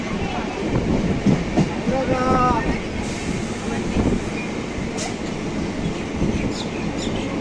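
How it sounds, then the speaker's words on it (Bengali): A Sealdah–Jalpaiguri Road train passing alongside a moving Sealdah–Ranaghat local train, with a steady loud rumble, clattering wheels and brief squeals, close and continuous, with faint voices in the carriage. "শিয়ালদা জলপাইগুড়ি রোড আমাদের পাশ থেকে ক্রস করছে।"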